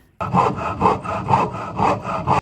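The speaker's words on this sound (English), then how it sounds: "we'll go ahead and cut the ends off there" A saw cuts through the wooden end of a large surface fishing lure with five quick, rhythmic rasping strokes, close up and alone.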